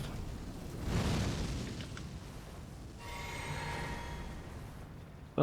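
A heavy magic ball in Elden Ring bursts in a soft, muffled game explosion, a dull rumbling boom that swells and fades, followed by a quieter hissing stretch.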